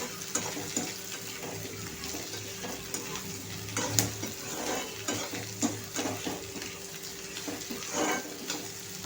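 Crushed garlic and green chili fry in oil with chopped ridge gourd for dodka mirchi, a steady low sizzle broken by intermittent clinks and scrapes of stirring, moderately close with no one speaking.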